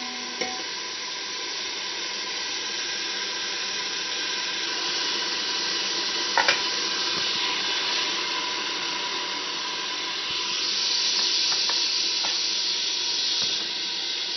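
Pumpkin and chana dal are stirred in a pan over a soft, steady sizzle, with a few light scraping clinks from the utensil.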